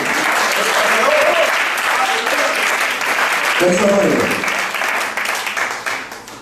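Sustained applause from an audience, loud and dense at first, then thinning into scattered claps as it tapers off.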